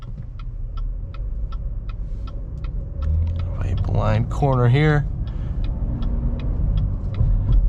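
A 2023 Chevy Blazer RS engine hums low and steady on a test drive, with the indicator ticking in a regular rhythm; someone speaks briefly over the engine.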